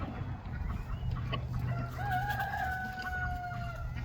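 Chickens cluck and a rooster crows at a backyard coop, with a drawn-out crow over a steady mix of soft clucking and ambient farm noise, no one speaking.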